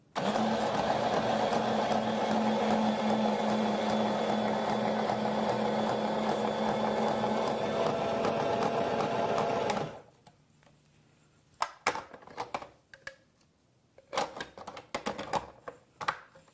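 A PrepExpress SSL-100C slicer, shredder and spiralizer runs loudly and steadily with a motor whir while cutting zucchini into ribbons, then stops abruptly, followed by scattered clicks and handling knocks.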